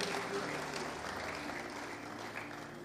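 A church congregation applauds in a full, steady wash of clapping that tapers slightly toward the end.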